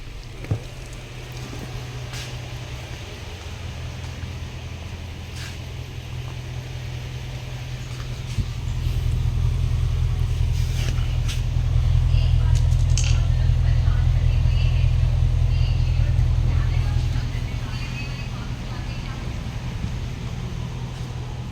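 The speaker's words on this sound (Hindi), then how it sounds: "ये गाड़ी है निसान पेट्रोल। तो मिसफायर है बहुत कम है।" Nissan Patrol engine running with a slight misfire, heard near the exhaust silencer as a steady low idle rumble that swells louder midway, with occasional irregular pulses and someone talking over it.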